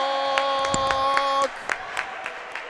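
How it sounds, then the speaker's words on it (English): A few sharp handclaps ring out in a steady rhythm at a junior varsity basketball game, over a sustained electronic tone that cuts off partway, with faint crowd noise behind. "Look, Nani clapping it up."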